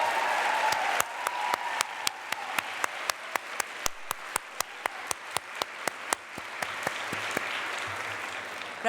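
An audience applauds Andrea Hairston, a Smith College alumna and theater professor, at a dinner program: a dense, steady round of clapping from a crowd that fills the whole stretch, with a few sharper individual claps standing out.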